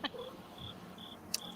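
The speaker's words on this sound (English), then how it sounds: "Those crickets have become the best part of her show." Crickets trill in short, thin, high bursts repeating at intervals over a quiet background, with a brief sharp click near the end.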